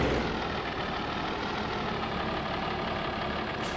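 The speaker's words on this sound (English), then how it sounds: "This tractor is nice." A cab tractor idles in a farming video game, its engine giving a steady low diesel rumble that holds evenly throughout, close and alone.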